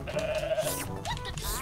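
Goat bleating in the video game Goat Simulator 3, a wavering nasal bleat lasting about a second, then a shorter rising call near the end, fairly loud with game background underneath.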